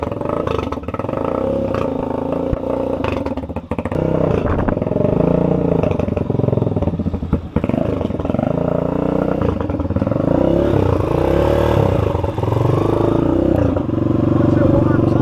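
A motorcycle engine idles and warms up on choke, a loud steady rumble throughout with some clattering, while people talk over it.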